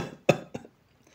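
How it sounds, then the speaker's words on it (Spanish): Two short, close coughs, the first louder and the second weaker, followed by quiet. "Esta tos."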